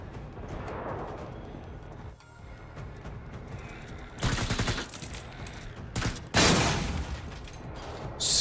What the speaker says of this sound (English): Stop fucking shooting at me, jackass.